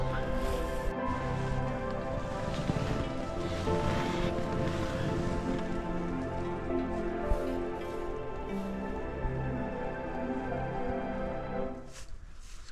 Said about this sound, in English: despite the sound of the wind in the guys